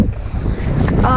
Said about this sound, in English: It's really windy, but we've managed to get a few fish.